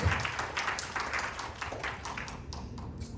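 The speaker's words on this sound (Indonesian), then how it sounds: "Beri tepuk tangan yang meriah bagi Allah kita." Congregation applause during a church service, a rather faint wash of scattered clapping with a few sharper claps that thins toward the end, heard in a reverberant room with no voices.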